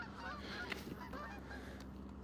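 Several geese honk in quick, overlapping calls near a trout stream in New Jersey, fairly close and steady over a constant outdoor hiss.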